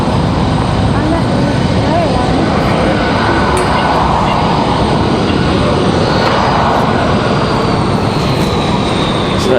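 Embraer E175 jet airliner moving at Raleigh-Durham airport, a loud, steady engine roar heard from close range with no letup, while voices talk faintly underneath.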